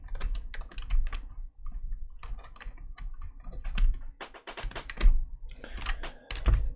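Rapid typing on a Kinesis Advantage keyboard retrofitted with Cherry ML switches, a close, dense stream of crisp keystroke clicks in irregular bursts with brief pauses, no voices.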